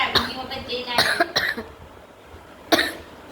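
Several sharp coughs in a quick cluster, then a pause and one more cough, close to the listener with faint background noise.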